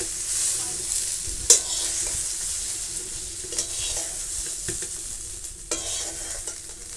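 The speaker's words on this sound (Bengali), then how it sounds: "এগুলোকে বেশি ভাজবো না, দেখুন এই হালকা করে ভেজে নিয়েছি" Green pea fritters frying in hot oil give a loud, continuous close sizzle, broken by a few sharp clicks of a spoon or ladle against the pan.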